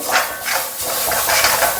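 Grated coconut frying in a pan with a sprig of curry leaves being added, a steady close crackling sizzle with light stirring scrapes throughout, no voices.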